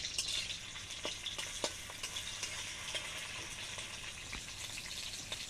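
Ginger and cumin paste fries in a pan with chopped tomato, a soft continuous sizzle with scattered light crackles and occasional stirring taps, fairly quiet.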